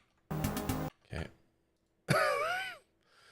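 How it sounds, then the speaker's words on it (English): A person with a cold lets out deep, throaty coughs: a rough burst, a shorter follow-up, then a long groaning, rasping cough, close and fairly quiet with pauses between. "I love my old man coughs that come out when I have a cold"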